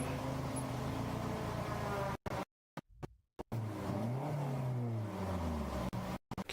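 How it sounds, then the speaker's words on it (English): A Porsche endurance race car's engine revs in the pit at Sebring during a night race, with rising and falling revs and brief cutouts and gaps in the sound. "Can hear him revving the engine,"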